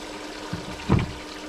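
Very hot water dipped out of a bait tank and poured, a short faint splash followed by a louder, brief pour and slosh close by, with no voices.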